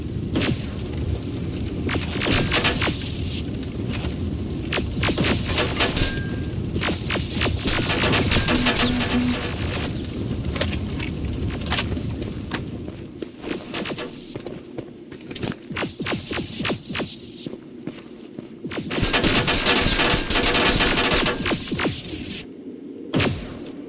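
Machine gun fire in the video game Terminator Resistance comes in dense, loud bursts mixed with booms, pausing briefly before another heavy volley near the end.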